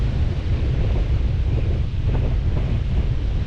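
Strong gusting wind at the seashore buffets the microphone in a continuous loud roar, with rumbling wind noise and a wash of surf underneath and no voices.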